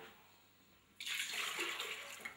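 Distilled water is poured into a vessel: after a moment of quiet, a sudden bright splashing gush starts and continues steadily, close and fairly loud, with no talk.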